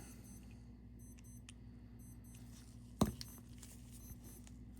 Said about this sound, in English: Been trying to find the watch that has the alarm on, but I haven't.